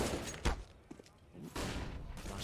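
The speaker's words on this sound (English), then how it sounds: "Flashbangs exchanged." Flashbang grenades detonating during a professional Counter-Strike: Global Offensive match on the Inferno map, heard as a few loud, close bursts and thumps over continuous game noise, with no talk.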